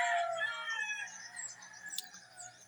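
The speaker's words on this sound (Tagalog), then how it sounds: "Lalo ng mga manok." Chickens and roosters on a foggy rural morning, with a rooster crowing and hens clucking at moderate distance, drawn-out calls overlapping amid soft ambient quiet.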